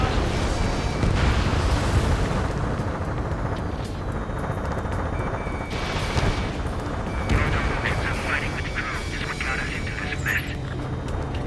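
A missile launch and explosion in the video game Ace Combat 7 come through as a heavy rumbling roar with booming swells and jet noise, while radio-style voices talk over it.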